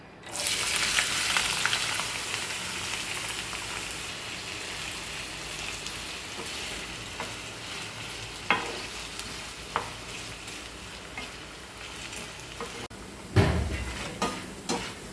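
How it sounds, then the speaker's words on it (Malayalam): Ginger frying in oil in a pan while being stirred, a continuous close sizzle with occasional scraping knocks of the spoon against the pan, no talking. "അടുത്ത നമ്മുടെ മെയിൻ താരം ഇഞ്ചി അയാളെയും കൂടെ നമുക്കൊന്ന് വറുത്തെടുക്കാം"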